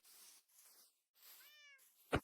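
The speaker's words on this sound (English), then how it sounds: "And I hear a cat." A cat gives a single clear meow, close and fairly loud, following stretches of quiet background noise, with nobody speaking over it.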